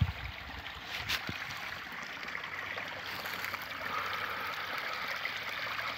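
A small outdoor stream flows and trickles steadily, a soft continuous wash of water with a brief splash or knock early on.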